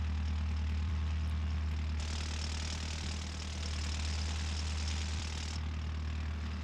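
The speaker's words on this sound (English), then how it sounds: "Did you notice the difference from the outside and the inside engine noise?" Engine of an AG Baja competition car running steadily as heard from inside the cabin, a continuous low droning hum with a brighter rush that swells in the middle section, with no talking.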